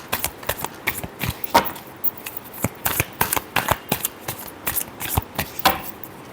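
A deck of tarot cards is shuffled by hand up close, with quick repeated riffling and slapping bursts in an uneven rhythm and no speech.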